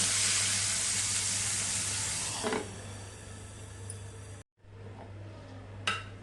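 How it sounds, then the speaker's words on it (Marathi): Hot tempering of chana dal, curry leaves, broken dried red chili and asafoetida is poured onto coconut chutney. It sizzles loudly and close at first, then the hiss fades over several seconds, ending in a brief clatter and a short renewed fizz. "आता कडकडीत फोडणी चटणीवरती घालूया"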